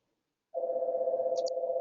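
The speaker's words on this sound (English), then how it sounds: "But you've got a phone call." A phone call tone during an online webinar: a steady electronic tone starts abruptly after silence and holds continuously, fairly faint, with a brief high chirp layered on top.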